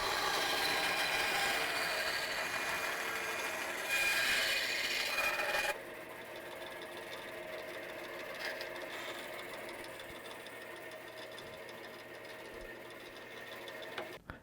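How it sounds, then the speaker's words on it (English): Bandsaw cutting a rough shape out of scrap wood for a recipe board: steady, loud whirring cut noise that shifts pitch midway and continues at a lower, duller level, no talking. "I will take everything over to the bandsaw and cut out the rough shape."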